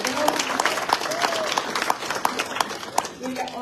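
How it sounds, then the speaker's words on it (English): A banquet audience breaks into loud, dense applause with sharp individual claps, close and sustained throughout, mixed with crowd murmur. "You just got a big applause, Steve."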